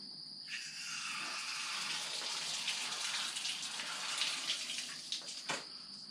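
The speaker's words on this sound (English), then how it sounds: "I'm hearing water run, but it's their dishwasher." Water from a household dishwasher runs as a steady, moderately faint rushing hiss that continues without a break, with a couple of soft clunks near the end.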